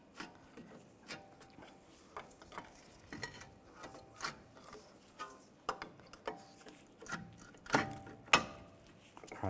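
A pry bar works a brake caliper off a 2004-2010 BMW X3 front brake, giving a series of close, scraping and clunking metallic bursts in an irregular rhythm, with quiet moments between efforts.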